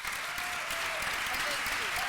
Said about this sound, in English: give a big round of applause to our wonderful panelists